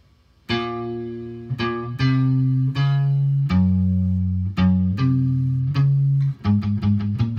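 Electric guitar plays the distorted intro solo of a song, a run of sharply picked single notes with a few quick repeated stabs at the end, loud and alone without any talk.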